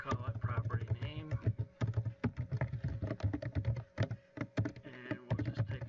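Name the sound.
typing on a computer keyboard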